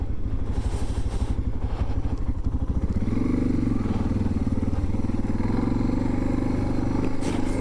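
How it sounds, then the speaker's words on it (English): A lightweight motorcycle ridden over potholes and bumps, its engine a loud steady rumble close up, with clattering and thuds as the bike crosses rough ground. "I gotta say, this bike feels so light."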